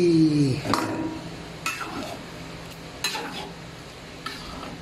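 Bell pepper and liver cook in a pan, with a few sharp utensil scrapes and knocks against the pan over a soft low sizzle that fades slightly as it goes.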